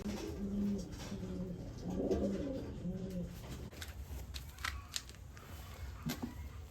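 Young pigeons and their parent coo softly at close range, a few low rounded calls in the first half, followed by faint rustling and small clicks.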